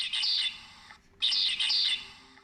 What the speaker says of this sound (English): Whereas the medium ground finch sounds very much like this.